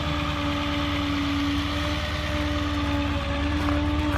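A truck engine with its PTO engaged runs steadily at raised RPM, a constant close hum and rumble with no talking.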